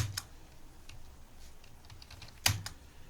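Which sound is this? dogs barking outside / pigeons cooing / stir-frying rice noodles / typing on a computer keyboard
typing on a computer keyboard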